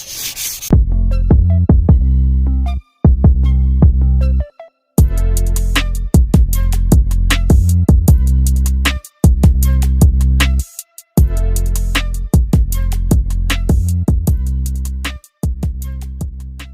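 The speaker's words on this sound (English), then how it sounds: "hopefully by sanding it lightly will help it out a whole lot." Close, loud sanding of a pallet wood tabletop: steady abrasive rubbing in long strokes broken by short pauses, repeating throughout.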